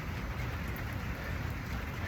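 Steady rain falls outdoors during a burpee workout, a dense, even hiss of drops hitting the ground that continues unbroken and fairly loud, with no voices.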